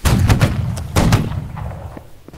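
Cannons fire in a video game, two sharp booming blasts about a second apart followed by fainter distant thuds, with no talk.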